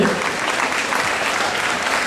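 A crowd at a temple Bhagavat Katha gathering in Fort McMurray claps in sustained, dense applause, steady and close.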